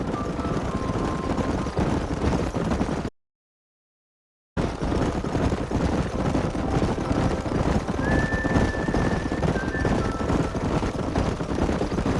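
Horses in the video game Red Dead Redemption, hooves clip-clopping steadily with an occasional neigh, heard continuously through a busy, noisy mix with a brief dropout partway.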